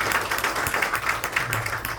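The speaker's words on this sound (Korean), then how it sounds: "우리 다시 한번 뜨거운 박수 보내주시면 감사합니다" A church prayer-meeting crowd applauds, a dense wash of many hands clapping at moderate distance, continuous and fairly even with a low hum underneath.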